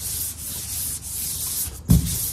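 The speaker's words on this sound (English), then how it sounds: "This is just the first quick sanding." Steady abrasive rubbing of sandpaper over hard fiberglass trim on a teardrop camper, continuous and close, ending with a brief louder knock.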